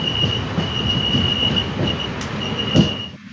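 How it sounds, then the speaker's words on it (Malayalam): A passenger train pulls into Karunagappally station with a sustained high metallic wheel squeal running almost the whole time over a low rolling rumble, with a couple of sharp clanks near the end before it quiets. "കരുനാഗപ്പള്ളി സ്റ്റേഷനിലേക്ക് ട്രെയിൻ കയറിയിരിക്കുകയാണ്"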